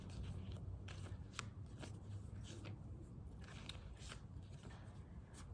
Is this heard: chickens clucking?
no